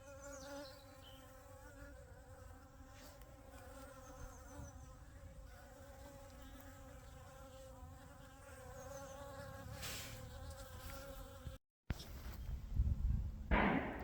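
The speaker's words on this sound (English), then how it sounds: "the bees are really coming for it. They're after the water." Bees buzzing around a tray of wet compost in a market garden in early February, a steady close hum with several overlapping wingbeat drones, faint and continuous, with brief rustling near the end.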